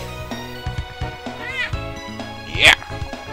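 A pet cat meows once, loud and close, over ongoing game music and a person talking.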